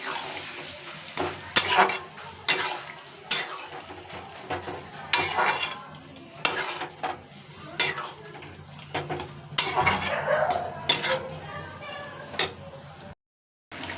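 A spoon scrapes and stirs a potato and pea curry in a pressure cooker, the clanks coming in irregular bursts over a faint sizzle, with a short silent gap near the end.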